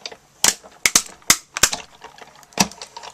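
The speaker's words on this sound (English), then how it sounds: "All that crinkling is completely normal with the Big Shot." A Big Shot die-cutting machine crunches through paper for a stamped banner, giving a series of sharp, close crackling pops and snaps at uneven intervals.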